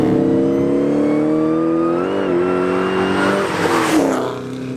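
A Ford SVT Mustang Cobra Terminator, tuned to around 700 horsepower, revs its engine close by: harmonics climb steadily to a high scream near 6,600 RPM and hold loud before easing off at the end.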